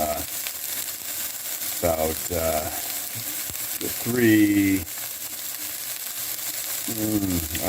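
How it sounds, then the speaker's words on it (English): Chopped onions with orange and green peppers frying in a pan, a steady close sizzle with brief stirring scrapes, while a person talks over it at intervals. "I put those in for a bit, a couple minutes with the onions, and then I chopped up those peppers. Threw those in."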